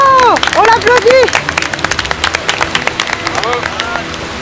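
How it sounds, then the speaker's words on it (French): A crowd at an outdoor Koh Lanta endurance event claps rhythmically in scattered bursts, while loud excited voices and cheering dominate the opening and return near the end. "Oh! Bravo! On l'applaudit!"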